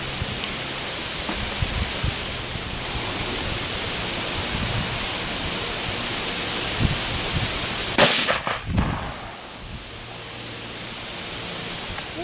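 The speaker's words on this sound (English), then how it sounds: "shooting the Mossberg 30-06 with Golden Bear 145 grain full metal jacket" A single sharp rifle shot from a Mossberg .30-06 firing Golden Bear 145-grain full metal jacket rounds cracks out midway, its echo trailing off over a steady outdoor wind-like hiss.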